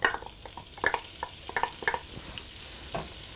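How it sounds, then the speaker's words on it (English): Pancetta and prosciutto fry in a large Dutch oven over medium-high heat, a soft sizzle punctuated by several sharp stirring scrapes and taps close by, with no talking. "I want to just fry these briefly."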